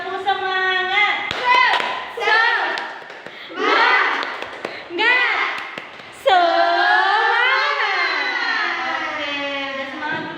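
A primary school class stands and performs a rhythmic spirit clap in a classroom, quick patterned hand claps mixed with children's chanting voices and a teacher talking.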